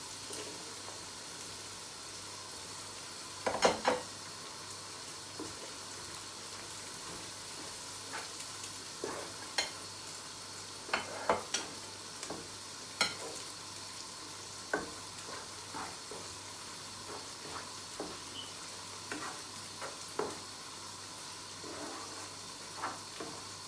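Dried lottia fish fries in a pan for a spicy Bangladeshi curry, giving a soft, steady sizzle. Occasional light clinks and scrapes come from stirring, and there is no talk.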